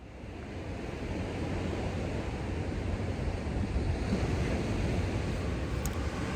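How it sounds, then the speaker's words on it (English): Ocean waves crash on the rocky coast of Vancouver Island's Juan de Fuca trail, a steady, dense roar of surf and wash with wind buffeting, continuous and fairly loud with no voices. "the sound of crashing waves and the smell of the ocean"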